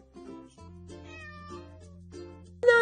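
A cat meows in a children's story, several drawn-out, tonal meows in a row, clear and close, ending with a sudden brighter, louder cry.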